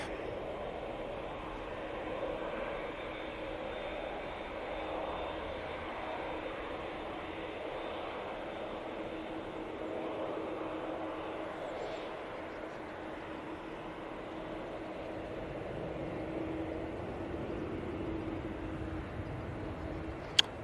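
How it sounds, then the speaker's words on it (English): Boeing Dreamliner airliner departing at Manchester Airport, a steady distant jet engine roar and rumble held throughout, fairly faint, with a faint click near the end. "So Dreamliner out next. It's taking the intersection."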